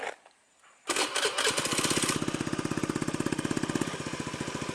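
A modified Honda Beat FI scooter engine, exhaust tip removed, starts abruptly after a faint lead-in and settles into a loud, rapid, rough idle with a steady popping pulse, heard close up.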